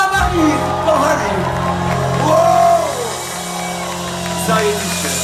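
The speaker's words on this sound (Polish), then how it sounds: "Brawa na nich, kochani!" An audience at a stand-up comedy show cheering for a couple, loud and sustained, with shouts and whoops rising over the steady crowd noise.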